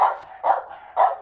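A dog gives three short, fairly close barks, spaced about half a second apart, with no talk over them.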